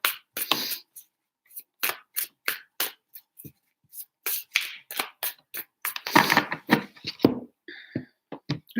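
Tarot cards being shuffled by hand come as a series of short, crisp riffling and slapping bursts, close and fairly quiet, separated by brief pauses, with a denser flurry of card noise partway through.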